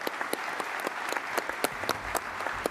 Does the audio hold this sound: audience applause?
yes